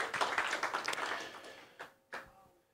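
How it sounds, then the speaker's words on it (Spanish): Church congregation clapping together for Christ, a dense burst of applause that fades, followed by two short separate claps. "Dele un fuerte aplauso a Cristo y tome su asiento"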